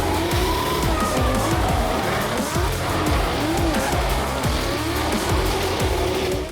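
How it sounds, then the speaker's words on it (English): Formula D drift cars perform at a SEMA outdoor demo with loud engines revving and tires squealing in long, repeated skids, a steady roar close by and no talk. "Our favourite part was the Formula D drifting demos."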